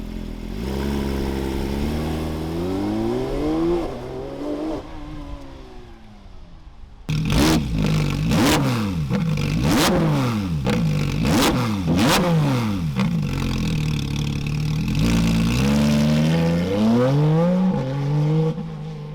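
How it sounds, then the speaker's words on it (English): A Porsche GT3 RS fitted with an R1 Motorsport exhaust revs hard and close, with long rising and falling sweeps, then a rapid series of sharp blips before further sustained revving. "the R1 Motorsport exhaust."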